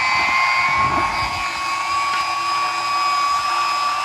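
An electric meat grinder runs steadily while grinding chicken for homemade sausage, giving a continuous whining motor hum with a few lower rumbling chunks early on, loud and alone without talk.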